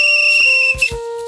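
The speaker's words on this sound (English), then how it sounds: "saw the guard from Donnybristle wave his flag and blow his whistle" A train guard's whistle blows in a sustained, shrill, steady tone across the whole moment, loud and close, with a few soft bumps and rustles beneath it.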